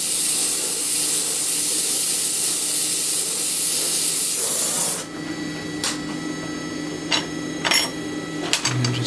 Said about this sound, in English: Again, good old gas torch.